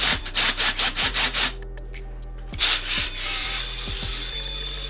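Axial SMT10 RC monster truck crawler running with its front bolts rubbing on the axle shafts, giving a loud rhythmic scraping whir in rapid bursts that then eases into a steadier, quieter grinding hum.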